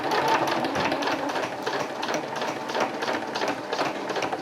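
A sewing machine stitching a hammock seam, a close, loud, rapid rhythmic whirring chatter running steadily throughout with no speech.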